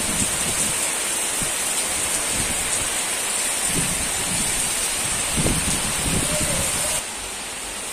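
Heavy rain pours steadily outside a balcony, a dense, continuous wash of rainfall with splashes that carries on under a person talking.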